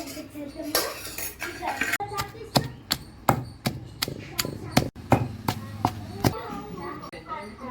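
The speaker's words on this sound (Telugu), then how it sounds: "ఇవి కూడా వేసి రోట్లో దంపేద్దాం, దంచుదాం అంతే" Garlic and green chillies pounded in a village-style stone mortar for gongura pachadi, a series of sharp, heavy thuds at an uneven rhythm, close and loud, with talking in the first seconds.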